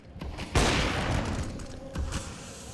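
A single loud, sharp rifle shot in a Counter-Strike: Global Offensive esports match, sudden and close, followed by a short decaying tail and a second, softer report about a second and a half later.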